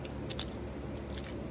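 Fire alarm keys, FCI-type, jangling together on a ring in a few quick metallic bursts, close and fairly quiet, with no talking.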